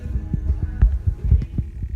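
An air-powered coolant vacuum filler running on the cooling system of a 2003 6.0 diesel during injector replacement, a low throbbing hum with rhythmic pulses, steady and close, with no talk.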